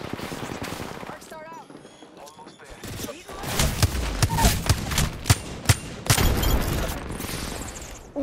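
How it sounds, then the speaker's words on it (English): Rapid gunfire bursts and sharp shots from a multiplayer shooter game, loud and repeated in clusters over the second half, with a player talking over the action. "More shots going on"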